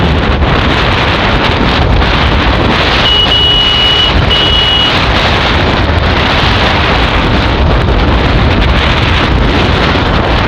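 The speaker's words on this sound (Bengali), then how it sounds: "খুবই ঠান্ডা বাতাস" Strong, steady wind buffets the microphone on a motorbike ride in Sylhet, a dense roar filling the whole clip with no talk, and a brief high electronic beep rises partway through.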